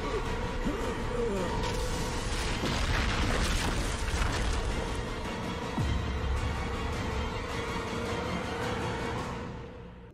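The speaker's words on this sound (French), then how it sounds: "Il forcera donc Renatal à regarder l'explosion de la ménagerie du maître" A large explosion from a World of Warcraft cinematic, the detonation of a master's menagerie releasing stored anima: a loud, dense roaring blast that holds steady for several seconds, then fades out at the end.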